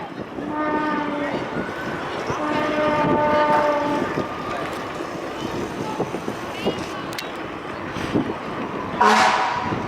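A fire truck horn mounted on a bike at a street parade blares in repeated long toots over loud crowd noise and voices, with a sharper blast near the end.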